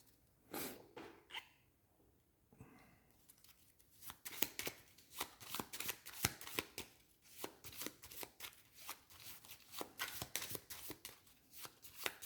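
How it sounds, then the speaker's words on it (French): Cards for the Arkham Horror board game shuffled by hand at a table: after a few scattered soft handling noises, a rapid run of crisp riffles and flicks in quick bursts, close and fairly quiet, with no voices. "Et hop, on reprend ça et on remélange."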